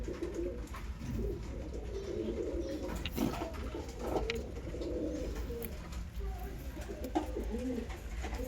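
A pair of Kaldoma cross pigeons sitting on eggs in a loft coo softly and repeatedly, low throaty calls recurring throughout over a constant background hum.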